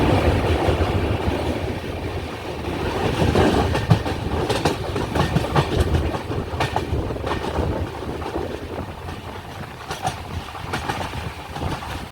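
Island Express passenger train in Kerala running on the rails, a loud steady rumble with rhythmic clickety-clack of wheels over joints and wind rushing past, heard from on board.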